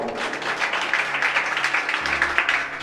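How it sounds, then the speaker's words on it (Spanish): A church congregation claps together in a sustained burst of applause, a dense, fairly close wash of hand claps over a low hum, rising and swelling slightly toward the end. "dale un aplauso a ese Dios de amor"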